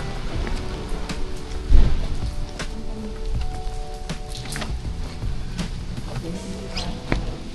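Rain falls steadily on surfaces outdoors, with scattered sharper drops and taps over a constant wash and one brief louder thump.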